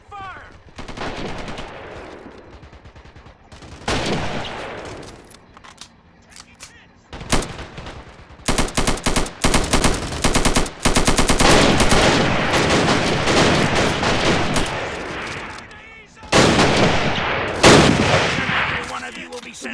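Heavy battle gunfire from the Pork Chop Hill battle, sustained bursts of automatic fire and overlapping shots that swell and drop, loud and close, with shouting voices mixed in at moments.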